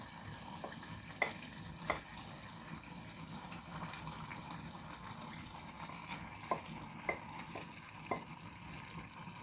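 Steady sizzle of garlic frying with eggplant in a pan, with a few sharp clinks of a utensil against the pan scattered throughout.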